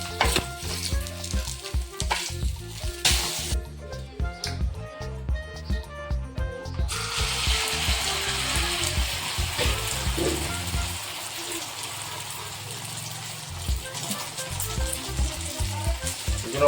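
Puri dough frying in hot oil for a Holi feast, a steady crackling sizzle with spoon stirring and clinks, loud and close, with brief quieter patches and faint background voices.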